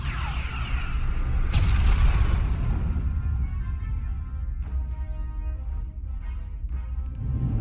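Starship weapons fire in the Star Trek: Resurgence video game starts with a loud booming blast and a sharp zap, then a sustained low rumble with fainter pulsing energy tones.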